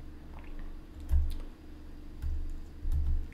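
Quiet clicking of keys on a computer keyboard in scattered short bursts, close and soft, with no talking.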